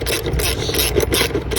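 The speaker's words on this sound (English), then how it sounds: "we're gonna take 10mm and tighten this down both ways." A 10mm wrench tightens a car battery terminal bolt on a 2011 Infiniti G25, giving a steady close rasping and scraping of metal on metal that runs unbroken throughout.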